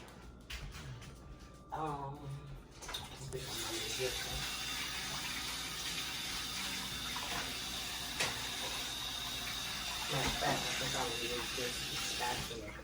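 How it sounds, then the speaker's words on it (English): Water runs steadily from a kitchen tap as hands are washed during preparation of smoked stuffed salmon, a continuous hiss lasting most of the clip after a short stretch of speech at the start. "Okay, wash your hands off."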